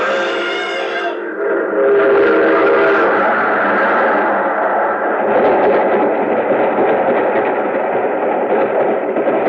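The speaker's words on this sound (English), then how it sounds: "There's a train coming." A train whistle blasts loudly for about a second, then the train roars past in a heavy, sustained rumble that fills the rest of the scene in an old-time radio drama.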